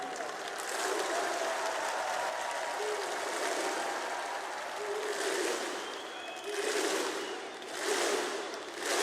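Crowd applause at a Counter-Strike esports event, the PGL Major in Krakow, steady sustained clapping swelling in waves from a large audience, heard at a distance.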